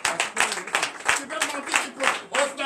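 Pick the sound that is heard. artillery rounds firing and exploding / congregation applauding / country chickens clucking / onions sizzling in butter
congregation applauding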